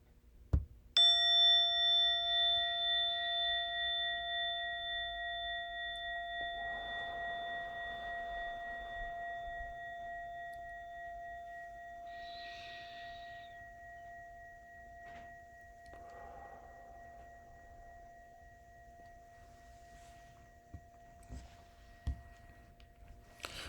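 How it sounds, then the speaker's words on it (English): A bell or chime struck once during school morning announcements, ringing loud at first and then slowly fading over many seconds, with a few faint soft noises and brief knocks in the quiet background. "In a moment, you'll hear a bell or a chime."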